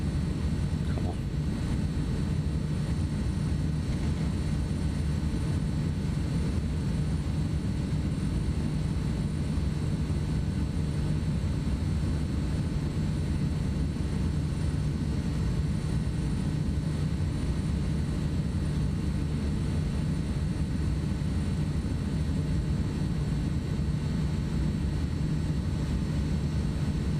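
A SimWorks Kodiak 100 single-engine turboprop flying in turbulence over Minneapolis in Microsoft Flight Simulator 2024, a steady engine drone and wind rush held at an even level throughout, with faint talk underneath.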